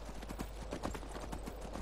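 Horse hooves clip-clop on the ground in the video game Skyrim, a quick, steady rhythm of faint, soft strikes under a constant wash of background noise.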